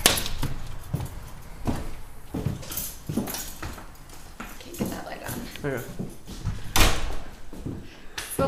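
A townhouse front door opens and shuts with a few clunks and knocks, while people talk throughout.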